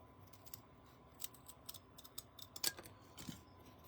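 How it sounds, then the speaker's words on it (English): Scissors snipping, a series of quick crisp cuts at close range, irregular and quiet, building to a few sharper snips. "Maybe the scissors will work."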